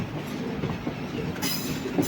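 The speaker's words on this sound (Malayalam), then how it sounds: "വണ്ടി പതുക്കെയാണ് കേട്ടോ, സ്ലോയിലാണ് പോകുന്നത്" An Intercity Express train rolling slowly along the tracks near a station, a steady low rumble with soft rhythmic clacking, heard from inside a general unreserved carriage.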